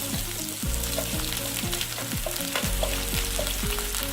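Mustard seeds and round-sliced small shallots frying in coconut oil for a Kerala-style fish masala roast, a dense continuous sizzle with repeated sharp popping crackles throughout, close and loud.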